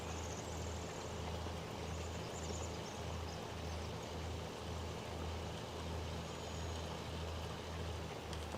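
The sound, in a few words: tractor pulling a cultivator in a farming video game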